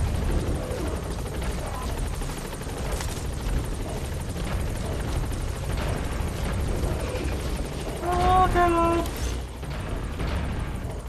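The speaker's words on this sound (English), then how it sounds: "Support helicopter has arrived." The support helicopter in the video game Metal Gear Solid V: The Phantom Pain gives a steady, loud rotor drone throughout, with a brief mechanical whine rising over it partway through.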